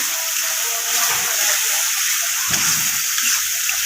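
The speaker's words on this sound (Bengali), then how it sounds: "মশলাটাকে আমি ভালো করে কষিয়ে নেব" Spices with turmeric powder sautéing in a hot pan, a steady loud sizzle and hiss throughout with faint clinks of stirring underneath.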